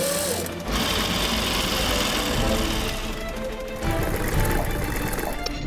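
Sewing machine running loud and close as it stitches gauze face masks in a garment workshop, a continuous rapid whirring drone that pauses briefly near the start and resumes steadily.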